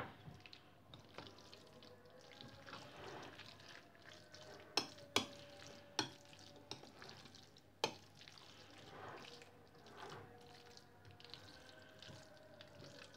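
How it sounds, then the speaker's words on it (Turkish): Yogurt vermicelli salad stirred in a bowl gives soft, wet squelching and scraping, with a few sharp spoon clinks against the dish near the middle. No one speaks. "hepsini karıştırayım"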